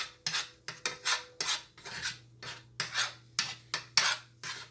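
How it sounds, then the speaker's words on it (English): A fork scrambles eggs in a bowl for a corned beef and grits meal, giving a close, rhythmic series of about a dozen scraping, clicking whisk strokes with no talking. "I'm gonna go ahead and scramble these eggs"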